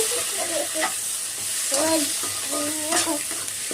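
Fried rice ingredients stirred in a pan with soy and chilli sauce for roadside-style egg fried rice, an even sizzle under three bursts of spatula scraping against the pan, close and moderately loud, with no talk.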